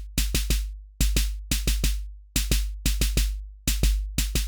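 A punchy electronic drum pattern converted to MIDI, with deep kicks and sharp snappy hits repeating in a tight groove, loud and dry, no voices.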